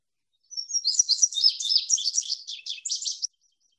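One songbird delivers a single bright, high-pitched series of paired chirps lasting about three seconds, clear and close against silence.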